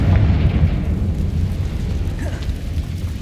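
A fiery Confringo spell blast in Hogwarts Legacy, a loud rumbling explosion at the start that decays into a lingering low roar and crackle, with no voices.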